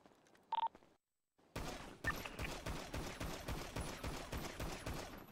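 Automatic gunfire from a GTA RP (NoPixel 4.0) game session: after a short beep and a moment of silence, a loud, steady burst of rapid shots rattles on continuously for several seconds.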